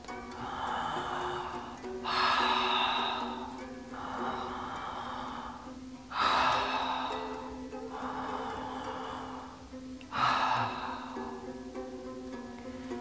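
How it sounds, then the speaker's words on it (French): Three slow, deep breaths taken during a calming grounding exercise, each a long airy inhale and exhale, evenly spaced and close, with no talking. "Je t'invite à prendre 3 respirations amples et profondes."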